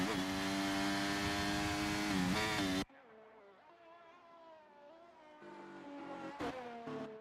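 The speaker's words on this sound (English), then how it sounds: "You can hear the wheel spin right there on that car." An F1 race car spins its wheels on a very wet track, giving a loud, sustained high engine whine that cuts off abruptly. A quieter engine tone follows and rises again toward the end.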